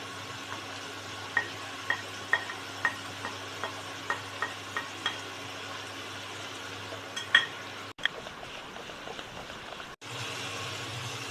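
Eggplant being stirred into cooked greens and potatoes in a pan for a vegetarian dish: about a dozen evenly spaced spoon-scraping strokes over a low sizzle, then quieter stirring and a steady background hum.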